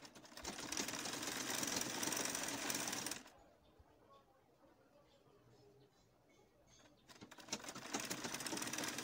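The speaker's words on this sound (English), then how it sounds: "Sewing with gather stitches, then pulling a thread, and then forming the gathers." Sewing machine running gather stitches on a sleeve of a maxi ruffle dress, a steady close whirr for about three seconds, then a quiet gap, then the machine starting up again, with talk present.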